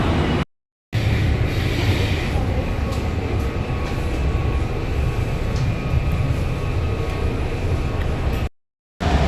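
Steady rumbling roar of a clean metro train in motion, continuous and fairly loud throughout, with a brief dropout near the start and end.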